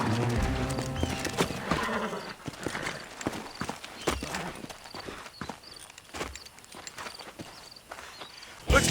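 Horses in the video game Red Dead Redemption walking on hard ground, steady overlapping hoof clip-clops with a brief whinny and scattered game sound effects.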